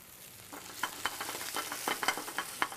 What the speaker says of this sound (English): Make sure that pan's hot to start with. Woo, look at that sizzle.